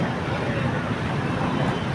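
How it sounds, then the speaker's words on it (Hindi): Strong wind blows hard and close, a dense, loud rushing roar with low buffeting that stays steady for the whole brief stretch. "बहुत तेज़ हवा चल रही है।"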